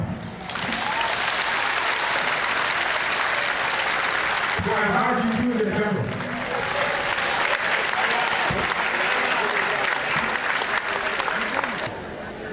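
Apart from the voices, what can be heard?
audience applause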